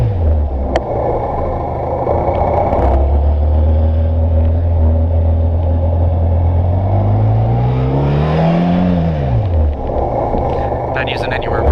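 A Honda PCX scooter engine rumbles steadily close by while riding, its pitch rising and then sweeping down around the middle as it slows for a quick stop, with wind noise throughout.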